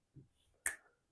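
A single crisp finger snap rings out sharply after a soft, low tap, part of a snap, clap, pat body-percussion pattern in a quiet room.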